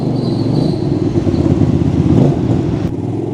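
A brand-new motorcycle pulls away and accelerates, its mid-pitched engine rumbling loud and close for a few seconds with steady throttle and slight swells in revs.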